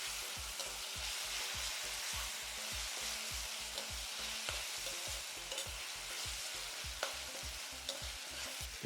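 Okra and other vegetables sautéing in a pan for a side dish, a steady sizzle broken by regular rhythmic scrapes and stirs of a spatula, close and fairly loud, with no one talking.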